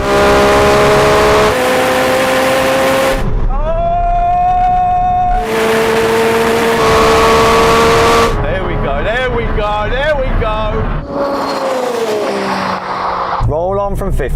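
A Lamborghini Revuelto and a McLaren 750S accelerate hard in a roll race from 50 in third gear, loud engine notes climbing through gear changes, with whooshing passes and fading roars.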